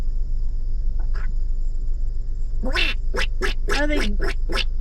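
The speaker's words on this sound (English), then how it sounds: "Are they geese or are they ducks? I think these are geese." Several nasal honking calls from geese, a couple of faint ones first, then a quick cluster of louder honks over a low steady hum.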